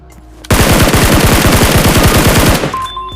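A sustained burst of rapid automatic gunfire in a mobile battle royale shooter game, loud and close with a dense rattling rhythm that lasts about two seconds before fading into quiet game sounds.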